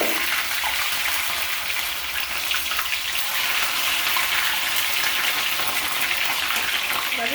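Potatoes frying in hot oil in a pan, a loud, steady, broad sizzle running unbroken throughout with no voices.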